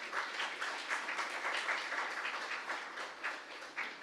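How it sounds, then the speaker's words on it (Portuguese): An audience at a talk on slavery and abolition through postage stamps applauds, a steady crackle of many hands clapping that continues for several seconds at moderate, fairly distant volume, with no talk. "Vamos fazer uma salva de palmas para ela."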